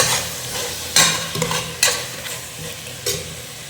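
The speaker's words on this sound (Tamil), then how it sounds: "ஸோ கொஞ்சம் நல்லா ஃப்ரை ஆகட்டும்." Beef biryani masala with lemon peel frying in a pan, a steady close sizzle broken by several scraping stirs of a spoon against the pan, with no talk.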